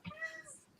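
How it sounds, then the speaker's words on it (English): Domestic cat giving a single short, faint meow somewhere in the room, brief and distant. "Whose cat is that?"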